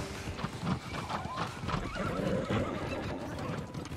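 A horse in the video game New World whinnies while its hooves clip-clop in a fast gallop, loud and steady throughout with no talking.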